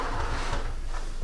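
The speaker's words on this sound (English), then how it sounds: "I'm going to open up the garage door" A residential garage door is opened, giving a brief rumbling, sliding mechanical sound at close range with no voices.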